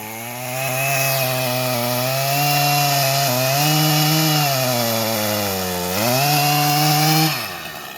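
Chainsaw cutting through a tree trunk during felling, a loud, steady, close engine whine whose pitch dips and climbs as the bar works through the wood, then cuts off abruptly, no talking.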